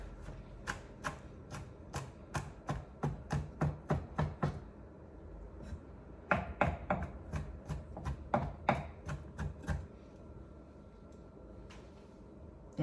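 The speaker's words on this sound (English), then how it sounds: "So I just gonna chop up 3 garlics here" A kitchen knife chops three garlic cloves on a cutting board for an ackee and saltfish recipe, giving fast, even knocks in two quick bursts with a brief pause between, close up and fairly quiet, with no voices.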